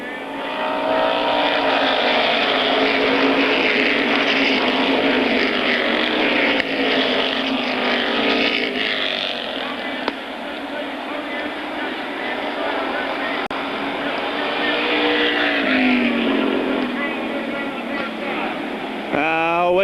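A pack of race cars roars around Airborne Raceway at a 1992 weekly event. The engine drone is loud, dense and continuous, with passing cars swelling and fading, and a voice talks over the noise.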